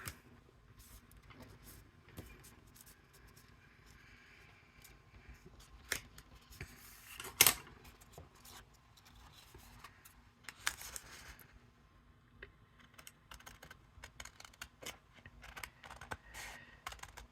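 Scissors trim thin craft paper for a pyramid card, producing quiet, scattered snips and rustles over a soft background, with one sharper cut standing out midway.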